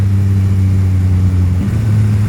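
A 2021 Yamaha Tracer 9 GT triple-cylinder motorcycle downshifts with its quickshifter, no clutch used. A loud, close engine drones steadily, and its pitch shifts once as a gear drops. Nobody speaks.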